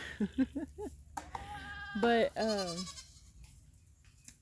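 Farm goats bleat a few times, close and clear: a quick run of short cries, then a longer wavering call. A single spoken word falls between them.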